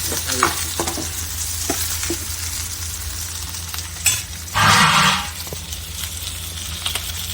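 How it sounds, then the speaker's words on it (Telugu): Chopped onions fry in hot oil in a pan, cooking toward light golden: a loud, steady sizzle runs throughout, swelling into a brief louder hiss near the middle before settling back. "ఎర్రగడ్డలు కోసుకొని వాటిని అయితే వేసుకోవాలి, లైట్ గోల్డెన్ ఫ్లేమ్ కలర్ వచ్చేదాకా. సౌండ్ చూసేటట్టు వస్తుంది."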